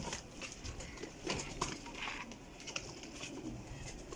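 Pigeon breeding hens at a loft, cooing softly and repeatedly against a steady noisy background with faint bird calls, no one talking.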